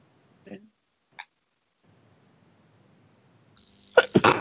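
A sudden sneeze erupts close to the microphone during a tabletop gaming session, a quick sharp burst with a follow-up snort after a few faint clicks and near silence.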